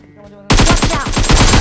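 A sudden loud burst of rapid automatic gunfire in BGMI (Battlegrounds Mobile India), fast even shots after a brief quiet moment, coming from the left side.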